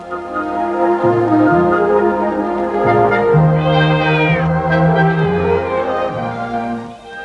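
Siamese-and-English-tabby cross cats meowing in a long run of drawn-out, overlapping cries, loud and close with no talk.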